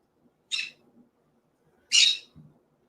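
A small pet bird gives two sharp, close squawks about a second and a half apart in an otherwise quiet room.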